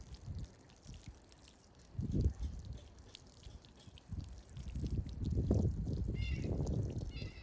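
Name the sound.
watering potatoes in a grow bag with rainwater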